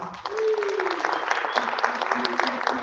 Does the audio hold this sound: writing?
no